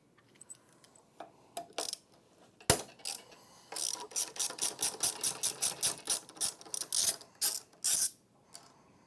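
Ratchet removing two bolts on a floor buffer, heard close up as short bursts of quick clicking, scattered at first, then a long, steady run of rapid clicks with brief pauses.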